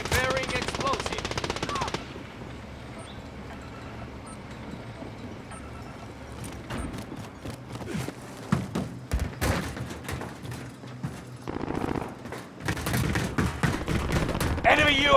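Machine-gun fire rattles in rapid, loud bursts in Call of Duty Warzone, with dense volleys, scattered single shots and thuds, and in-game voices heard between them.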